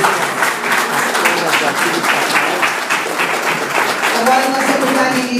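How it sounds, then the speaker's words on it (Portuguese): Congregation clapping in praise to the Lord during a church service, steady loud applause filling the room continuously throughout. "Uma salva de palmas para o Senhor."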